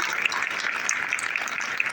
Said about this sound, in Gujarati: તાળીઓના ગડગડાટથી આપણે આ સ્વાગતને બતાવીશું